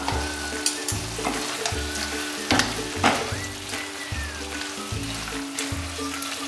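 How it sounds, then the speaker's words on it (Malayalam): Chicken stew with fennel seeds stirred in a pan: steady close sizzling with repeated scraping stir strokes in a regular rhythm, no talk. "ഇനി നമുക്ക് നന്നായിട്ടൊന്ന് ഇളക്കാം"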